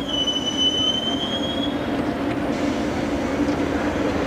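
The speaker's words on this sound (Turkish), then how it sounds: "Şimdi tren geçiyor bak." Train wheels squeal loudly as a fast train passes by, high metallic screeching tones over a steady rumble of railcars, heard alone without talk.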